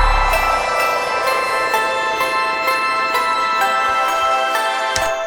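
A synth choir plays alone without its pad chords in an electronic track, a dense, sustained tonal texture with soft shimmering accents, steady and fairly loud, with no voices.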